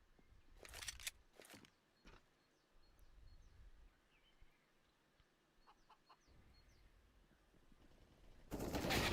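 Quiet, distant bursts of gunfire in a CS:GO competitive match: a couple of rapid volleys early, scattered shots mid-clip and a louder burst at the end, between faint chirping ambience.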